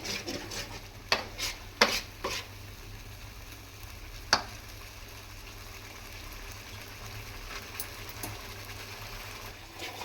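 Fish curry masala fries in oil in a pan while it is stirred, giving a soft continuous sizzle broken by sharp scraping clicks of a spoon against the pan, mostly in the first few seconds, with no talk.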